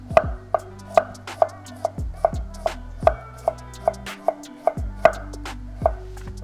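Knife finely chopping and shaving food on a cutting board, a close, steady run of sharp rhythmic knocks at roughly two per second, with no voices.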